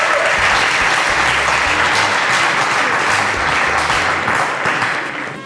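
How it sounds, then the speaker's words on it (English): Studio audience at a cooking show in Lokoja applauds the cook: dense, sustained clapping from many hands, loud and even throughout, tapering slightly at the very end. "a round of applause for our cook"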